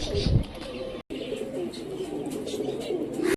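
Young Giribaz pigeons from an old bloodline coo and chirp in a loft, repeated soft calls with a brief pause partway and a short louder burst near the end.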